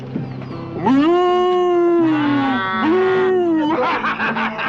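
A voice gives a long, drawn-out imitation of a cow's moo, rising and wavering, then repeats it loudly with a second sustained call.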